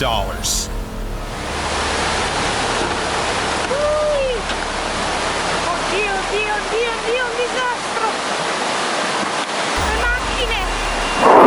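Loud, continuous rushing floodwater roars through a city after non-stop rain, a swollen torrent, with a few birds chirping faintly above the wash.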